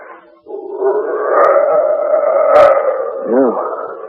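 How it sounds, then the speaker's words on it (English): A wolf howl rises and holds as a long, wavering, mournful cry, with a brief wobbling break near the end, heard close and loud in a quiet setting in a 1940s radio drama. "What's that? Sounds like a wolf."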